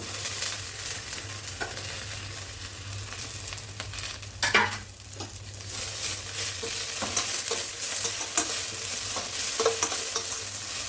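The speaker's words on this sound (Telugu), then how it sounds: "కొంచెం ఆయిల్లో ఇలా ఫ్రై చేసుకోవాలి ఈ జీలకర్ర వేసేసుకుందాము" Cumin seeds and mint sizzle in a little oil as a spoon stirs them, a steady frying hiss with scraping clatters throughout.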